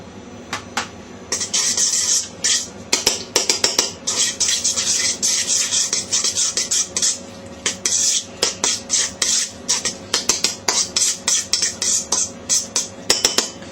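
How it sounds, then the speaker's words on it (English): Mushroom mixture being stirred together with ricotta cheese in a bowl, a run of close, rhythmic scraping and clinking of utensil against the dish, growing into quick repeated strokes toward the end, with no talking. "We're going to mix this with a bit of ricotta cheese to bind it together."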